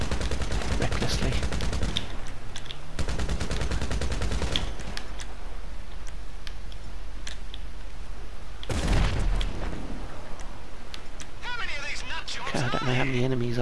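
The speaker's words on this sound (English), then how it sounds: "someone started shooting recklessly" Gunfire from GTA 5 Online during a yacht mission: dense, fast bursts of shots crackle through the first few seconds, followed by a sustained barrage and a heavy boom near the nine-second mark, with game effects throughout.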